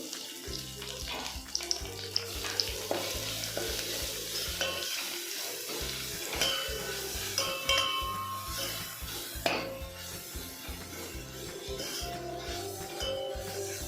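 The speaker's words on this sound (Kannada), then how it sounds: "ಇದರಲ್ಲೇ ಗ್ರೈಂಡ್ ಮಾಡ್ಕೊಂಡಿರೋ ಗಾರ್ಲಿಕ್ ಪೇಸ್ಟ್ ಹಾಕ್ಕೋಬೇಕು" Green chillies and garlic paste fry in a pan with a continuous sizzle, scraped and clattered by a spoon at intervals over a low, even hum.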